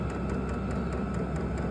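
A Vevor diesel heater runs just after being switched on, giving a steady low hum with a faint, evenly spaced ticking pulse throughout and no voices.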